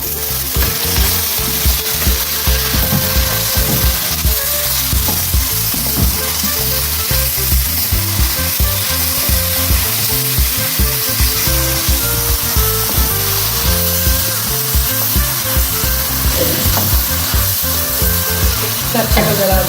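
Okra (bhindi) frying in a pan with tomatoes just added for a spicy masala bhindi fry, a loud steady sizzle with scraping stirs throughout, no voices.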